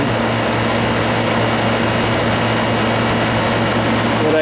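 Refrigerant gas rushes through a hose valve that is only slightly cracked open, making a loud, constant broadband hiss with a low hum beneath, unbroken and close throughout.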